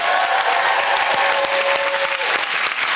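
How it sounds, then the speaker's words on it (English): Studio audience applause on a British BBC Three comedy quiz show, a dense, steady wash of many hands clapping for the full length, loud and close, with a faint sustained tone running under it. "please give yourself a deserved round of applause"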